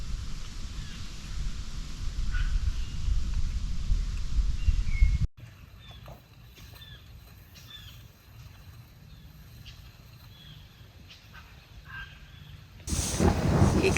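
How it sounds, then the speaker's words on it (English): Rain and thunder in a winter storm at a solo camp: a heavy, steady roar of rain drops abruptly to a quieter patter with faint chirps, then surges loud again at the end. "Here comes the rain."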